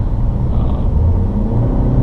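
Interior drone of a 2013 Buick Encore with a fuel-injected four-cylinder engine while driving, a steady low rumble of engine and road noise with no speech over it.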